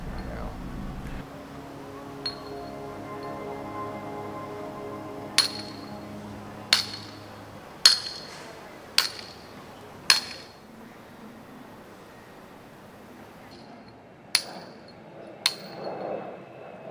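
A steel chisel struck by a hammer against stone, sharp ringing metallic clinks spaced irregularly, about a dozen blows standing out over a low background hum and faint voices.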